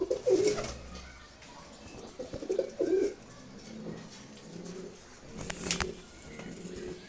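Several male pigeons cooing nearby in soft, throaty bursts, a few rolling calls spaced across the stretch with light rustling and background noise between them.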